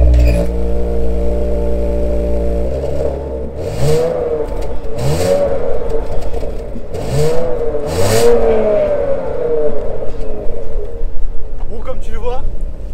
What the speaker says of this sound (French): je pense qu'il est l'heure de faire chanter ces échappements ABT